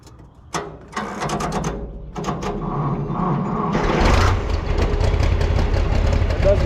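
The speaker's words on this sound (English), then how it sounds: "we'll get the tractor warming up" A Farmall 460 tractor cranks over and catches, sputtering through uneven starter bursts before settling into a loud, rough idle as it warms up.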